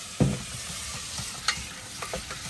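Meat and garlic scapes stir-fried over high heat in a pan at a seaside campsite, a steady close sizzle broken by a few sharp scraping knocks from the spatula.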